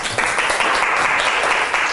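A classroom audience gives a short, lively burst of applause, many hands clapping together in a steady close wash of sound.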